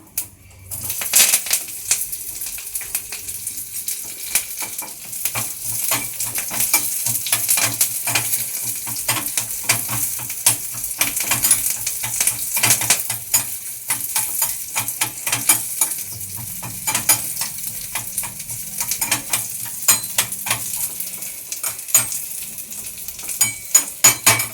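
Curry leaves and onion crackle in hot oil as a tempering in a pan, with sharp bursts of popping and sputtering over a busy sizzle and occasional metallic stirring clinks, close and continuous.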